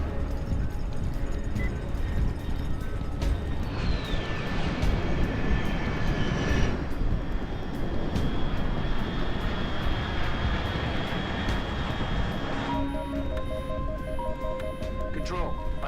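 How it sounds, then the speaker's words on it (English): A fast aircraft in Metal Gear Solid 3: Snake Eater drones steadily with a broad engine roar and faint whining tones, while a character's voice speaks over it. "Unidentified aircraft detected"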